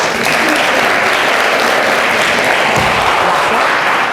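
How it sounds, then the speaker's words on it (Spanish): An audience claps steadily in a room after a talk on cloning monkeys, a dense, continuous round of applause throughout with no break. "Despedimos a Claudia en un aplauso."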